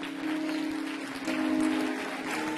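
A church congregation applauds and cheers for Jesus, a continuous wash of clapping and voices that swells briefly in the middle, fairly distant and without anyone speaking over it.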